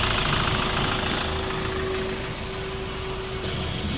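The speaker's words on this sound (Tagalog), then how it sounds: "tignan muna natin yung start ng makina ni boss" A Hyundai Grand Starex van engine, suffering from carbon build-up in the intake, idles steadily and loudly up close with a constant mechanical hum and no talk.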